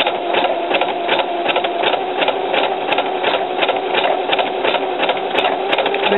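A sewing machine stitches a stretched lettuce-leaf hem along the edge of shorts fabric in a loud, continuous, fast mechanical whir with a steady rhythmic chatter throughout, with no talking.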